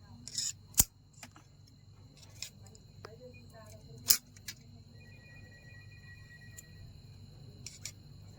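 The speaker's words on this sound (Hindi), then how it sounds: "जितने भी एक्स्ट्रा पेपर है उनको हम काट लेंगे" Scissors snip away extra insulation paper from a ceiling fan's rewound winding in a home repair, giving a few sharp, isolated clicks with long quiet gaps between them over a low steady hum.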